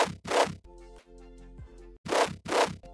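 FM growl synth built in Serum, a high notch filter sweeping downward; two bursts of bright, harmonically dense buzzing bracket a steadier, lower, tonal growl with stepped harmonics, loud and alone with no voices.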